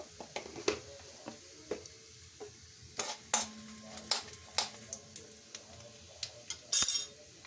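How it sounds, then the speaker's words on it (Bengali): Cumin seeds fry in oil for dal, a faint sizzle under repeated sharp metallic clinks and scrapes of a spoon stirring in the pan, close and intermittent. "অনেকটা ডাল আছে তো, তাই একটু বেশি করেই জিরে দিতে হবে। জিরে দিয়ে দিলাম,"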